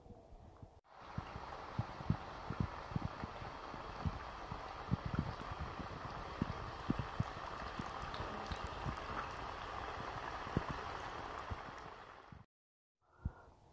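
Samosas deep-fry in hot oil, making a dense, steady bubbling crackle with scattered pops that runs for about twelve seconds before cutting off abruptly.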